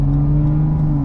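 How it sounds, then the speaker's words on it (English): Steady, loud exhaust drone from a car under acceleration, a low humming tone holding throughout with no talk. "The exhaust sounds great."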